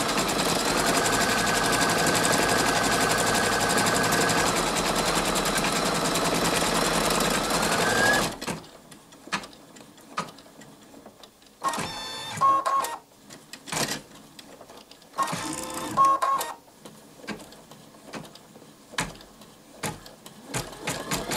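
A Brother Innovis 2800D embroidery machine stitches at a fast, steady clatter for about eight seconds, then falls to short, separate bursts of stitching with quiet gaps between them.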